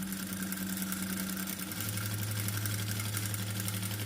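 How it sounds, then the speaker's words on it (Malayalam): A sewing machine stitches a pocket onto a pair of trousers, its motor running as a steady, close mechanical hum that shifts slightly in pitch partway through, with no talking. "അവിടെ ഇതുപോലെ കൊണ്ടുവന്നിട്ട് ഒന്ന് കെട്ടിയിട്ട് അടിച്ചെടുക്കുക."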